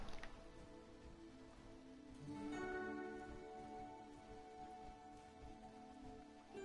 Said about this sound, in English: I was just enjoying the rain. Like watching it hit the glass